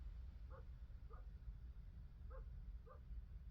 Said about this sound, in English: I'm sorry if you all hear a dog barking.